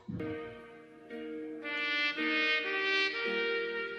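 A bright brass tone plays a short phrase of sustained notes, with soft accompaniment underneath, with no talking.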